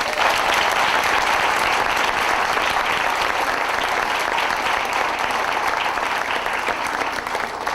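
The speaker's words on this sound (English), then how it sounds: "let's give our honorees, all of them, a big, big hand" Sustained applause from an audience for honorees at a plaque ceremony, a dense, even clatter of clapping that continues without a break for nearly eight seconds.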